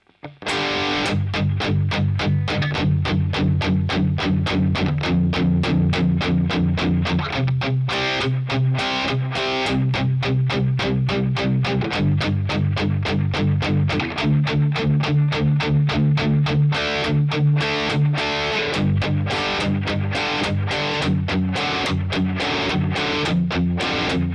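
A distorted electric guitar strums a song's verse, with steady, evenly repeated power chords played at slow tempo, loud and alone.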